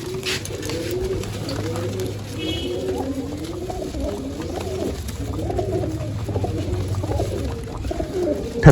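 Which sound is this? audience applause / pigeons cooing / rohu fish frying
pigeons cooing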